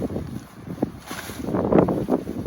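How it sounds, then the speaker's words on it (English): Gusty wind blowing through a canyon at a campsite, buffeting the microphone in uneven rumbling surges with faint flapping. "Right now we're in a canyon and it's blowing kind of all over the place"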